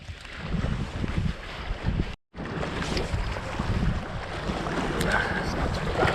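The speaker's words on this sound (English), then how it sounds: "I've got to get out of this wind" Strong gusting wind buffets the microphone outdoors beside a canal during perch fishing, a steady broadband roar with one brief dropout, continuous and loud throughout.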